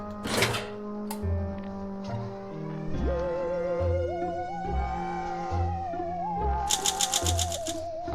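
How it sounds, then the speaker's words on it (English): A clicking fan above a terminal in the video game 60 Seconds! gives steady, rhythmic thunking clicks roughly every two-thirds of a second, mixed with sustained tonal game music and a few sharp clatters. "A fan above the terminal is clicking the sounds."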